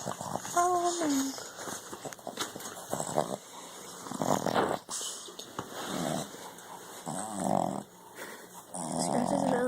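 A small puppy snores and snuffles with rough, uneven breaths, interspersed with faint whimpers and tiny growl-like sounds, while people speak softly nearby at intervals.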